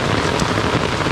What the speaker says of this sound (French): Il pleut tellement, on peut pas bouger.